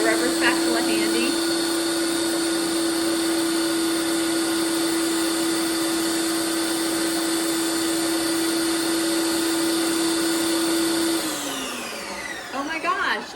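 Ninja Creami machine churning frozen vegan ice cream, a loud steady motor whine with a constant high hum that holds for about eleven seconds, then winds down and stops.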